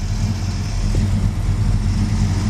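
The 440 Wedge V8 in a 1966 Dodge Charger fastback runs smoothly and steadily, a loud, deep, continuous rumble heard up close with no talking.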